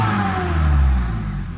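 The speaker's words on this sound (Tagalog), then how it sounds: "Galit na yung makina mga sir" A Mitsubishi Adventure engine with a faulty RPM gauge reading revs hard at close range. The roar swells and whirs upward, peaks, then eases off slightly, loud and steady with no talk.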